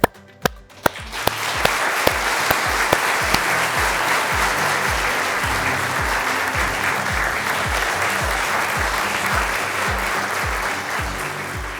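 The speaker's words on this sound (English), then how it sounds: "join me in offering a round of applause to our new Fellows, members and Diplomats" An audience at a surgical college conferring ceremony for new Fellows, Members and Diplomates starts with a few sharp separate claps, then swells into steady, full, continuous applause that holds to the end.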